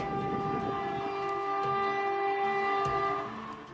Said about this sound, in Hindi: छुक छुक की आवाज पल पल तेज होती जा रही है